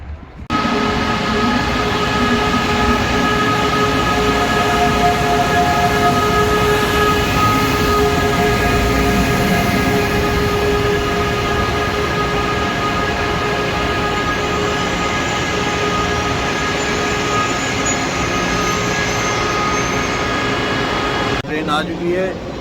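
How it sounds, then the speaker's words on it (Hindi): A Haramain high-speed train arriving at Sulaimaniyah station in Jeddah gives off a steady, loud mechanical hum and rumble with sustained tonal whine, continuous for the whole stretch, with a brief clunk at the end. "ट्रेन आ चुकी है"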